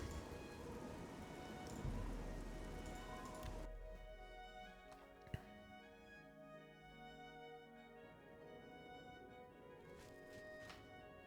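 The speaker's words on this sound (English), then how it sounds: "It was doing the thing where it loads the sound of the rain, but not the rain." Soft, steady rain in The Elder Scrolls IV: Oblivion, a faint continuous patter with a brief sharp tick, heard alone without talk.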